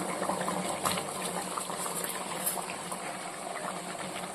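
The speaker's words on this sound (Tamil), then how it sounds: "இப்போ நம்ம க்ளீன் பண்ணி வச்சுருக்க இந்த அரிசியை சேர்த்துடலாம்" Soaked seeraga samba rice tipped into a chicken biryani pot, giving a steady, close wash of pouring grains and bubbling, sizzling liquid that stays even throughout.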